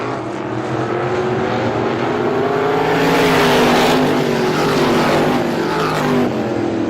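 Stock cars race past in a speedway heat race, their loud engines roaring continuously with a rising and falling drone that swells toward the middle as the pack passes close by.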